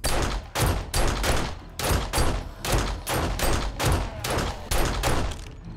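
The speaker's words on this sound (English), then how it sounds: "Man, that was a lot of shots." Rapid gunfire in 7 Days to Die: about a dozen loud, sharp shots in a steady, evenly spaced rhythm, each a heavy crack with a short echo, close and dominant with no voices.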